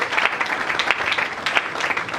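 A French-speaking church congregation bursts into steady, energetic applause, dense and close clapping from many hands filling the room.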